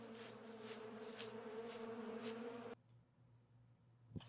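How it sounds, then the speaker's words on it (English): Bees buzz from a honeycomb in the game Eidolon, a steady droning hum that cuts off abruptly partway through, leaving a quiet low background with a faint click at the end. "I still hear bees. Why do I still hear bees?"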